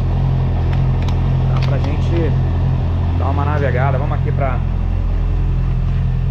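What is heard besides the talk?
Honda CBR 650R motorcycle engine idling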